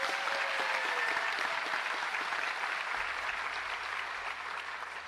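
A school district convocation crowd gives a sustained round of applause for the schools' teachers of the year, an even wash of clapping that holds steady and then eases slightly toward the end.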